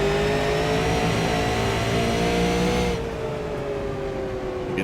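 Super late model race car at a speedway, its engine note lifting and then dropping as the driver lets off and works the throttle coming off turn four, a strong, continuous close-up drone.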